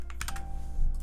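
Computer keyboard keys are pressed for a Blender shortcut, giving a quick cluster of four or five soft clicks near the start and another faint tap near the end, close and quiet over a steady low hum.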